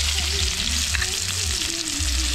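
Chili stir-frying in a pot for snakehead fish soup makes a steady, loud sizzle with stirring noises, close up and uninterrupted.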